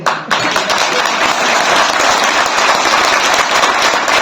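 At a NARDECO convention in Delhi, an audience breaks into applause after a brief pause, a loud, dense clatter of many hands that keeps going steadily to the end.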